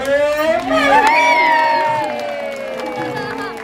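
An audience cheers and whoops at a sea lion show, a loud crowd of mixed voices including children that rises, then slowly fades over a few seconds.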